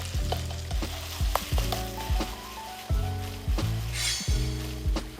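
Green onion and garlic fry slowly in a pan, a steady soft sizzle broken by repeated stirring scrapes and clatters in a loose rhythm, close and fairly loud, with no talking.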